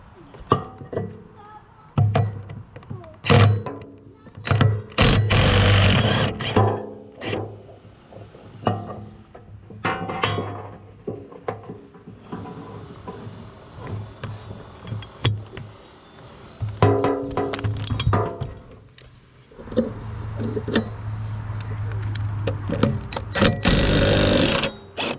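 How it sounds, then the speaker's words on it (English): A wrench working bolts loose on a Ferris 52-inch walk-behind commercial hydro lawn mower, intermittent metallic clicks, clanks and ratcheting in a workshop, with irregular pauses and some low background hum. "we just needed a wrench up top, and all 3 of those came out easily"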